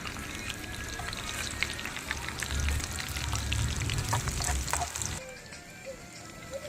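Pakoras fry in hot oil with a steady, dense sizzle and crackle throughout, close and fairly loud, easing off and thinning out near the end.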